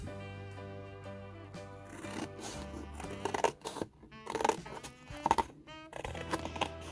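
Scissors snip through a Christmas card to cut out a stencil, a series of close crisp cuts and paper rustles over steady background music, with no one talking.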